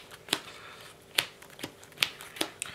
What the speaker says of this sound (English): we're gonna power shuffle because this deck needs power shuffling